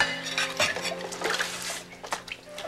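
Dishes being washed by hand, with continuous clattering of pots, clinking cutlery and splashing water, busy and close with scattered sharper knocks throughout.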